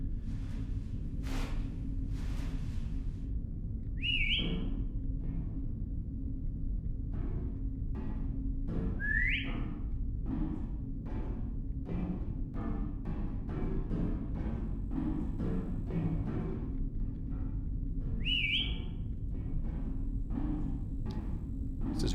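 Whistling in the horror video game Lazaret aboard an old cargo ship, several short rising whistles spaced apart over a constant low rumble and scattered knocking sounds.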